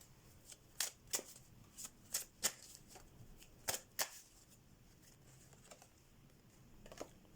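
Tarot cards being shuffled close by, a quiet series of sharp riffling flicks and soft slaps in irregular bursts, fading into faint handling noise.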